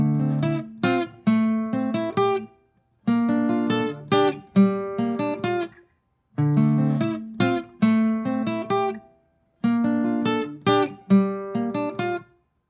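Acoustic guitar plays the full repeating chord progression of a song, four rhythmic phrases of strummed and plucked chords with short pauses between, close and clear with no talking.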